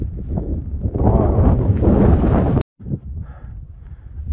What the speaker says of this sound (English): they had a gust of wind. It's like 100 miles per hour